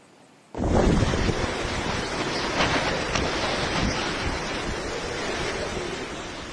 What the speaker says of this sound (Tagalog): Sabay sa malakas na buhos ng ulan, ang hangin tila nagpasayaw sa mga puno